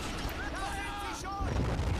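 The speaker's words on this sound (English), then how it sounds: "the explosions are very powerful, but the accuracy is not always too good" Artillery shells burst in the World War II strategy game Men of War: Assault Squad, in a short run of muffled booms and rumbling impacts under distant game noise, with a voice speaking over it.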